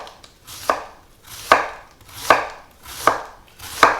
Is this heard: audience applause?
no